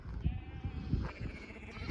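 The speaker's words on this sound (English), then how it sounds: "Let's bring me down this farm track with all these sheep." Sheep bleat repeatedly on a Devon farm track, loud and close, several calls overlapping in an uneven rhythm.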